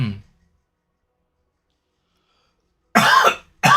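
A person coughs once at the start, then after a quiet pause gives a harsh double cough close to the microphone, each burst short and dry.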